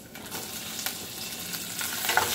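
Tomatoes go into a pan of pork frying over heat, bringing a steady close sizzle with stirring scrapes and small bursts of crackle, and no talk.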